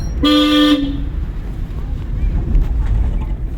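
One short, loud car horn blast near the start, from a driving-school car, then steady wind and road rumble with no further honks.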